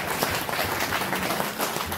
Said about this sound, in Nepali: एकदम ताली बजाइदिनु उहाँबाट